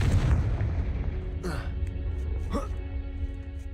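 Confringo blast spells in the Hogwarts Legacy video game, loud low booming explosions with rumbling tails, plus a couple of whooshing swept casting sounds, as a voice speaks over the game audio.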